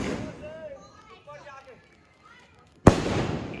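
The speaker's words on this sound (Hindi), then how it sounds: "फटाका फोड़ रहे हैं" A firecracker goes off during Diwali celebrations: a single sharp, loud bang near the end, preceded by indistinct voices and outdoor chatter, with a lingering rumble after the burst.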